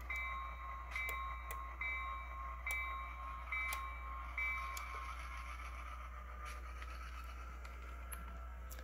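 A model train moves a caboose around a small switching layout. Light rail clicks and ticks repeat over a steady low hum, with faint sustained tones in the background.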